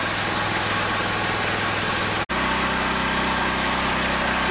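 Small pressure washer engine running at full speed with a 6.0 tip fitted, a steady loud mechanical drone broken by a sharp momentary cut partway through, then continuing with a deeper hum.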